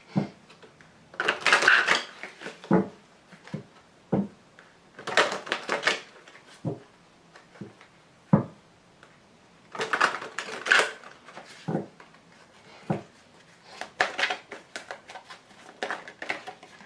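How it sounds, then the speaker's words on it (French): Tarot cards drawn from a deck and laid out, giving dry papery slaps and shuffling clatter in short irregular bursts, close and fairly quiet, with no voice. "je vais tirer toutes les cartes"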